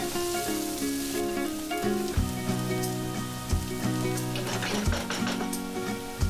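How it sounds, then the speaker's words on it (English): Cubed carrots fry with softened onion in a pan for soya chunk biryani, giving a steady, close sizzle that runs throughout beneath background music. "Then add 3 carrots cut in medium cubes and fry this for about 5 minutes"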